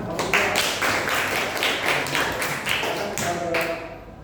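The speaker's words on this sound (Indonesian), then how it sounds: "Ya, tepuk tangan" Students clapping in a school classroom during a coding and artificial intelligence lesson, a short burst of fairly loud, uneven hand claps with a few voices mixed in underneath.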